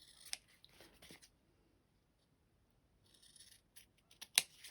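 Scissors snip around sewn fabric pocket tags in a few short, crisp cuts, close and clear, with quiet pauses between them and one last sharp snip near the end.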